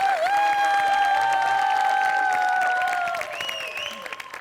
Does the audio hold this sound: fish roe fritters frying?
no